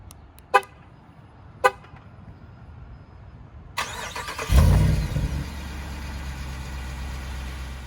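Horn of a Jeep Wrangler Rubicon 392 HEMI set off by the key fob panic button. Two short, sharp toots sound alone, followed by a louder blast with a heavy low rumble that lingers.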